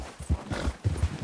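A horse gallops in Red Dead Redemption, rapid thudding hoofbeats in a quick uneven rhythm, close and moderately loud for a short burst.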